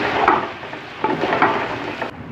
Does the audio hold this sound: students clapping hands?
no